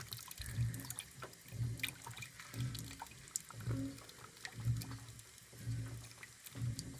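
Water mixed with bleach pours into an LG top-load washing machine, a continuous splashing trickle with a soft rhythmic low churning pulse about once a second underneath, fairly quiet and close.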